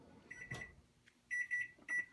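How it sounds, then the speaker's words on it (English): A kitchen timer on an oven is set with a few short button beeps, three clear electronic tones near the end after a soft tap, with no talking over them. "we'll go ahead and set the timer for another 20 minutes"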